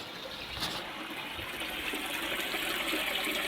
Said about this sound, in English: There's a leak on the grow on tank.